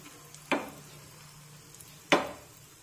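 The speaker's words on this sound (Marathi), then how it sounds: "मंद आचेवर हा पराठा एका बाजूने छानपैकी भाजून घेऊया" Egg paratha batter sizzles in a hot pan in two sharp, loud bursts that fade quickly, with a quiet stove hum between them.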